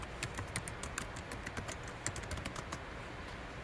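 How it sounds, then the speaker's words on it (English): Fingers typing a web address on a computer keyboard, a quick irregular run of light key taps, close and fairly quiet, with no voices. "The other way of getting to Rock the Lab would be to simply type in rockthelab.com in your URL"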